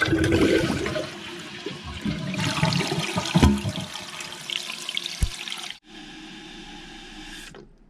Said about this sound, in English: So let's give it a flush.